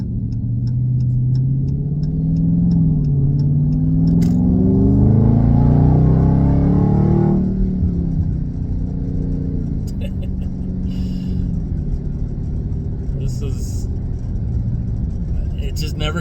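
A muscle car engine revs up hard, a loud rising roar peaking near the middle, then settles into a steady idle rumble; people talk over it throughout.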